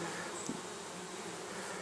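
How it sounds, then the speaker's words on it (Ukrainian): A steady buzz of honeybees in flight hums throughout, continuous and moderately loud with no voices. "Бджола літає начебто активно"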